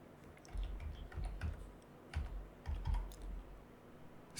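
Soft, close keystrokes on a computer keyboard come in small irregular clusters of taps, with short pauses between them, in a quiet room.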